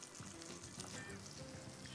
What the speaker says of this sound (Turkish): Şöyle yavaş yavaş soğanlarımızı sevgilicilerimiz görüyorsunuz hemen şöyle kızartıyoruz